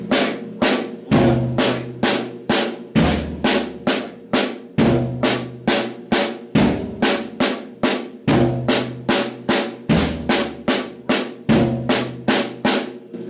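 Single paradiddle drum strokes in repeating groups move between deep tom-toms and a crisp snare at a slow, even tempo, loud and close with no talking.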